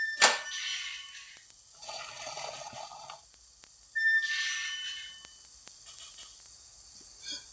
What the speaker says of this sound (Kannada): ಇವಾಗ ನೀರು ಮಿಕ್ಸ್ ಮಾಡ್ಕೊಳ್ಳೋಣ.